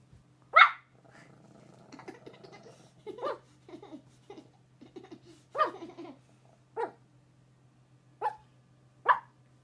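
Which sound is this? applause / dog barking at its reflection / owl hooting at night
dog barking at its reflection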